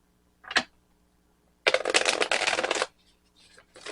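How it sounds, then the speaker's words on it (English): A deck of tarot cards shuffled close by: one quick riffle snap, then a longer run of rapid flapping cards lasting about a second, and a few lighter shuffles at the end. "the cards need to be shuffled a little bit more"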